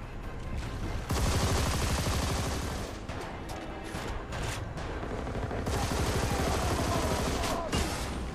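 Sustained heavy gunfire in a firefight from Army of Two: The 40th Day, loud overlapping automatic bursts and shots rattling continuously, with brief dips in intensity between volleys.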